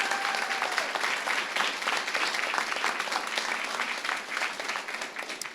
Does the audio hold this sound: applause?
yes